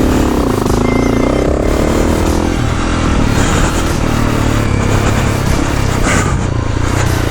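A dirt bike rides a homemade track on a tiny island, its engine revving hard and close, loud and unbroken, with clattering texture throughout.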